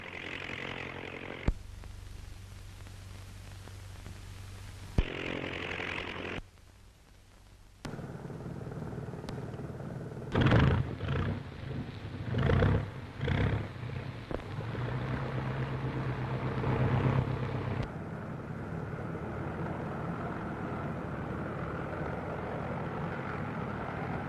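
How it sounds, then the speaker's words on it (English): A Royal New Zealand Air Force training aircraft drones steadily in flight, its engine a continuous, somewhat muffled hum, with abrupt cuts and a few louder rushes from a wartime film soundtrack. "the young pilot learns to handle his aircraft in expert fashion"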